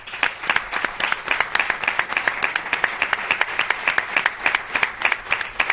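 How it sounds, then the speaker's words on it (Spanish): An audience at a flamenco gala bursts into applause for an honoured singer, many hands clapping in a fast, rippling, evenly sustained ovation with no voices over it. "para la cual pediría un fuerte aplauso."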